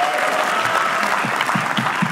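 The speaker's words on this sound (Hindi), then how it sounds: "एक बार ताली बजाओ यार तुम लोग।" An audience at a comedy roast claps in steady, dense applause, fairly loud and close throughout, with a few distinct heavier claps standing out toward the end.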